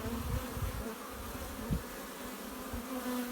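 Honeybees humming and buzzing steadily around a hive in swarm mode, a close, continuous drone with no talk.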